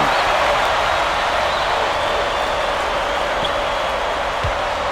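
Arena crowd noise from College Hoops 2K8 basketball, a dense, constant roar of cheering and applause with no breaks and only a faint ball bounce near the end.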